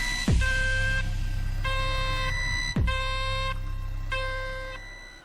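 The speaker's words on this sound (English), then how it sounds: "That's my alarm clock sound" An electronic alarm clock rings in repeated bright, tonal bursts that swell and break off in a steady pattern, loud and alone with no voices.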